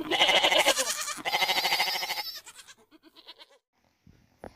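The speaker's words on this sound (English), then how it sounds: "G for goat." A goat bleats in a series of wavering, quavering cries, loud and close at first, then breaking into shorter, fainter bleats toward the end, with no speech.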